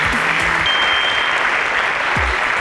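A studio audience at a televised Nigerian inter-school quiz contest bursts into steady, dense applause after a correct answer, loud and continuous throughout with a brief voice faintly underneath.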